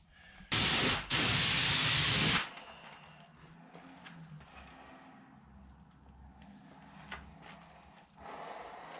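Spray gun laying a second coat of paint on a car fender, a close, loud hiss in two bursts lasting about two seconds in all, then quiet room noise and faint handling sounds.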